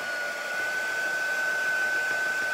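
A hair dryer blowing steadily up close as it dries chalk paste on a T-shirt, a constant loud whooshing hum with a thin whine running through it.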